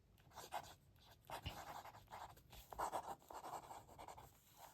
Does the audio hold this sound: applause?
no